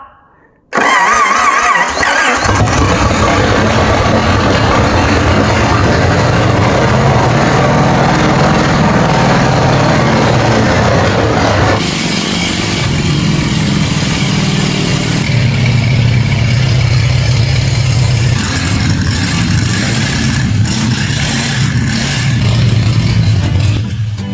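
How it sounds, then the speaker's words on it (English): A newly rebuilt 1946 Plymouth P15 engine runs loudly and continuously, its steady rumble shifting slightly in pitch as it idles and revs, with no other sounds. "Engine's running fine now."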